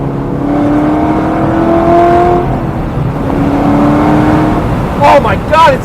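V8 LS3-swapped ND Miata engine at full throttle, a rising engine note that climbs, briefly dips on a shift and climbs again, close and loud, with a voice cutting in near the end.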